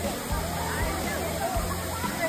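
Gandahathi waterfall in Odisha pours in a steady broadband roar at low water level, with a crowd of holiday visitors murmuring beneath the rushing water throughout.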